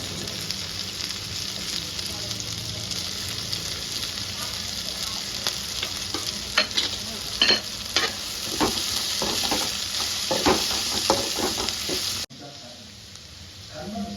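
Cabbage stir-frying in a hot pan for veg Hakka noodles, a steady loud sizzle with scattered sharp spatula scrapes and stirring clatter, ending abruptly in a quieter stretch.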